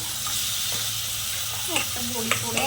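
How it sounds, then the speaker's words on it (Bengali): A potato and brinjal curry sizzles in a pan as it is stirred, a steady hiss with scraping strokes toward the end and a faint voice in the background. "দিয়ে একটু নাড়িয়ে নিই"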